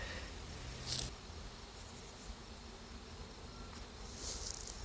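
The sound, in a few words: honey bees buzzing on hive frame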